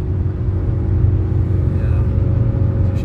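Audi S8 V10 engine while driving, a loud, continuous low rumble from inside the car at steady load, with no speech over it.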